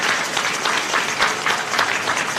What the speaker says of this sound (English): Let's give the elders a round of applause.